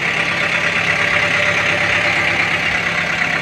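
A 2023 Kubota M6040 tractor engine idles steadily close by, a continuous even rumble with a faint knocking texture and no talk.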